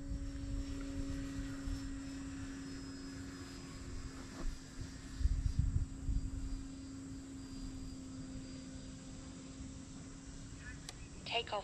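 A Turbo Timber Evo RC airplane with a 4S 320 setup flying before landing: a steady electric motor whine with a faint tonal hum, and brief louder rumbles midway, with speech-like murmur in the background.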